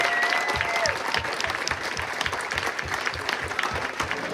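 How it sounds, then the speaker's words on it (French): An audience at a school cabaret show applauds the performers, a full hall of continuous clapping with some nearby hands standing out in a loose rhythm. "on peut les applaudir pour tout le travail accompli depuis quelques mois"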